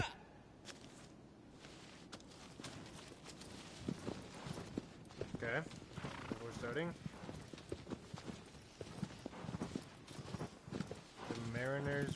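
Hooves of a horse clip-clop in a video game, light repeated steps mixed with game sounds while a person talks over them.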